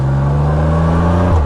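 A Can-Am Spyder F3 three-wheeled motorcycle hums steadily and loudly while being ridden, the engine note holding and then dropping briefly at the end.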